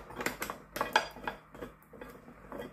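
A front plate is screwed onto a Philips pasta maker, producing a run of small plastic clicks and ratcheting knocks, close and moderately loud in quick irregular succession.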